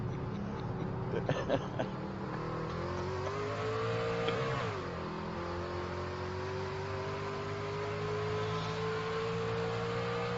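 Race truck engine in the racing game ANZCAR Truck Series, heard as a steady, fairly quiet drone that eases off and settles into a slowly falling tone, with a brief rattling burst near the start.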